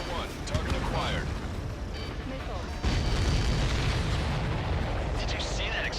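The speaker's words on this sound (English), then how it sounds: "Did you see that explosion? Looks like that's one of them down." A supply ship blows up in the flight combat game Ace Combat 7, a deep rumbling blast that swells midway into a sustained roar under game noise and radio chatter, with voices talking over it.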